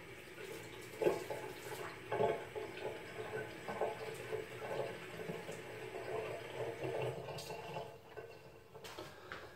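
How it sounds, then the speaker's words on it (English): Water trickles and splashes as a small syringe is filled, giving short wet gurgles and drips with irregular bursts, quiet and close, with no talk. "Just got a little syringe here, and I'll put some water in."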